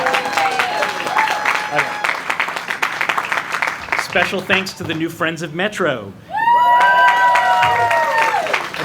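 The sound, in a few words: audience applause for the advisory group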